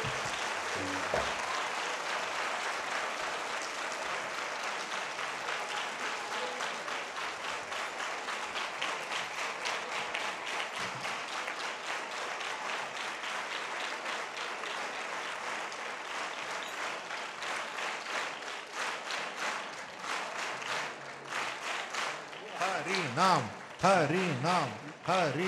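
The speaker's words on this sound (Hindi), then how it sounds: "हम लोग सार के लिए ज़ोरदार तालियां होने चाहिए" Sustained applause from a concert audience at a devotional music performance, loud and steady for most of the stretch, thinning into scattered claps and crowd murmur toward the end.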